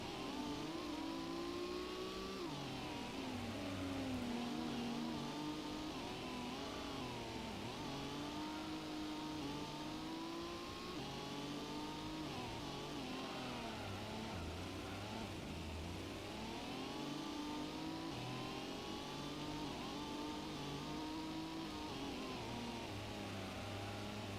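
Simulated race car engine in the Gran Turismo video game, revving hard and steadily as its wheels spin, rising and falling in pitch with no break throughout, with no talk.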